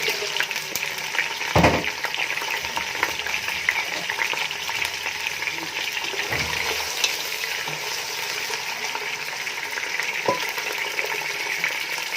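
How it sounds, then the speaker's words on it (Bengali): Potatoes frying in hot oil for biryani make a loud, continuous sizzle, with a few sharp clinks of a utensil against the pan. "তেল হালকা গরম হলে এখন আলুগুলো এটার মধ্যে দিয়ে দেওয়া হবে।"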